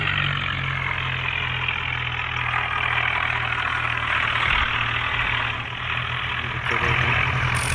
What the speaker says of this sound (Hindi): ये रहा ट्रैक्टर अपना स्वराज।